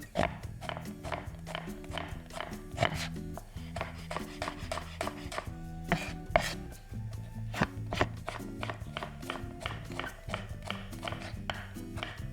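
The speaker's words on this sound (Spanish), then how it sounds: "Lo que tenemos que hacer aquí, necesitamos es cortar la cebolla en julianas." A knife chops an onion into thin julienne strips on a board, preparing adobo. Steady, rapid, close-up knocks repeat for over twelve seconds over a soft tonal background.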